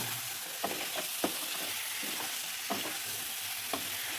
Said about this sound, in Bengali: দেখছি একটু চিনি দিয়ে আরেকটু কষিয়ে নেব